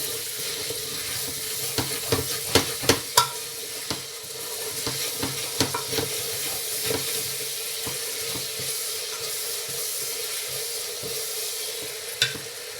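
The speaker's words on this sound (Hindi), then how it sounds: "यहाँ मैं सब्ज़ मिर्ची भी डालूंगी, नमक और ये भूनेंगे।" Green chillies with salt sautéing in a pan for chana dal, a continuous sizzle with repeated scraping and clinking of a spoon against the pan, strongest early on.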